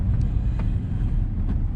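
A car driving down the steep, winding Zigzag Road, a tight-cornered route shared with walkers and cyclists: a steady, loud low engine and road rumble with wind buffeting the microphone, heard from inside, no talking.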